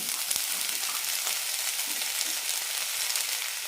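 Tomato and ridge gourd pieces sautéing in a pan, a continuous bright sizzle with occasional soft stirring knocks, close and steady throughout.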